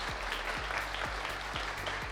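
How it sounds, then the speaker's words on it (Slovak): Applause from a lecture audience at a charity talk on self-defence law in Banská Bystrica: steady, dense clapping filling the room for the whole stretch, with a low hum running beneath it. "veľký potlesk"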